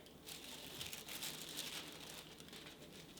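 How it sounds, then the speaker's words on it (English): Crisp crinkling and rustling of parchment paper being handled and cut, steady and close, with no voices. "Now your parchment paper, when you cut it,"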